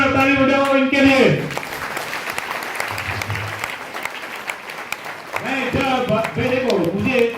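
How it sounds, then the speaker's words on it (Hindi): An audience at a wellness mass program in Ranchi breaks into sustained clapping, a broad wash of applause that swells and fades while a voice speaks over it at the start and end. "ऐसे ताली बजाओ इनके लिए"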